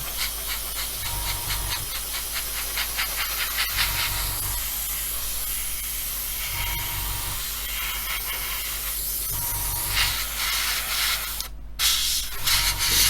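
Airbrush spraying paint onto an Airfix 1/24 scale F6F-5 Hellcat model kit, a steady close hiss in short repeated bursts with brief pauses between passes.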